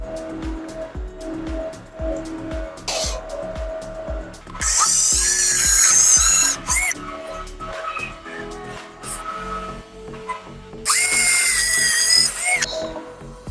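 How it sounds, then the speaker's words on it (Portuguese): A power drill bores dowel holes in a wardrobe panel through a drilling jig, with two long loud whining bursts of several seconds each, separated by rapid clattering knocks and clicks of repositioning the jig and workpiece. "vou olhar o bico alinhador e fazer a furação"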